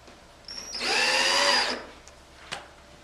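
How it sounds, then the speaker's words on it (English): A power drill drives screws into a wall bed frame, one steady whirring burst lasting about a second, close and loud, with a brief click afterward and no talking. "screw in at a slight angle to push the frame outwards against the edge"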